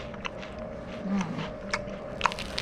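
A close bite into a tuna melt sandwich gives soft crunching and chewing sounds, a few short crisp bursts over a quiet kitchen background.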